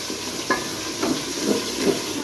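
Chicken masala spices with turmeric powder and salt sizzling as they fry in ghee, a continuous loud hiss with soft stirring scrapes recurring about every half second.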